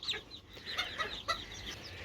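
Young Ispenç and Serama chickens, including a golden-toned rooster chick, give a close run of short, high chirping clucks that come in small bursts with no voices.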